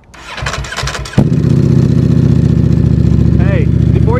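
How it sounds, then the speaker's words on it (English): A Ducati V4R motorcycle fitted with a Termignoni titanium exhaust cranks and fires up, then settles into a loud, steady, rumbling idle, with brief voices over it. "We've already done some mods on this thing, like the Termagnoni titanium exhaust that you're about to hear."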